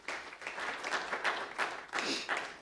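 A church congregation at a Methodist Sunday service claps in a brief round of applause, close and fairly soft, with uneven bursts over a few seconds.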